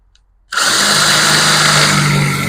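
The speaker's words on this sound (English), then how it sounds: "once you get the bottoms all drilled out" A power drill spins up suddenly after a moment of quiet and whines steadily, drilling hood pin holes in a Jeep XJ hood, close and loud with no talking.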